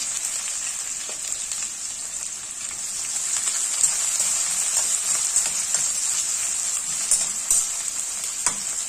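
Onion frying in a pan, a steady bright sizzle that holds at even loudness throughout with faint crackles, no voices.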